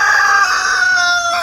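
Laying chickens on a farm give a loud, close, sustained call with a strained, rising tone, heard alone without talk for a moment.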